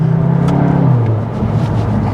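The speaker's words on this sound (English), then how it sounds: "on the upshift, sometimes you do get a little fart, just that DSG notorious fart" Cupra Leon hot hatch with a DSG gearbox holding a steady, loud engine drone that dips in pitch partway through as it shifts up, with a brief exhaust blip at the change.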